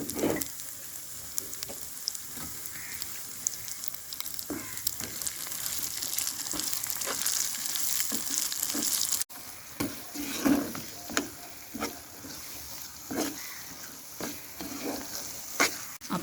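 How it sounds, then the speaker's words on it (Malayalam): Bread frying in oil left over from frying eggs, a continuous close sizzle broken by repeated stirring and scraping strokes in the pan, with no talking. "ആ ബ്രെഡ് നമ്മൾ മുട്ട വറുത്തെടുത്ത എണ്ണയിലേക്ക് തന്നെ ഇട്ടൊന്ന് ഫ്രൈ ചെയ്തെടുക്കാം"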